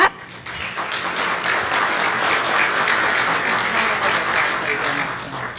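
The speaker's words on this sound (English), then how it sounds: "Just go ahead and hold your applause till we're all done." An audience at the Step Up AZ 2018 event breaks into applause, a dense steady roar of many hands clapping that holds at full strength throughout.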